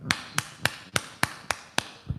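Single person clapping hands as a demonstration during a Bible teaching session, seven sharp evenly spaced claps about a quarter second apart, close and crisp, with a softer final clap.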